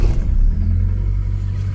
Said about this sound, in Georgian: აი მანქანა დავქოქეთ